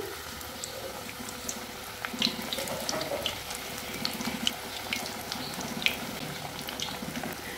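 Potato box patties go into hot oil in a wok and fry with a steady, even hiss and bubbling, with small pops and crackles scattered over the sizzle.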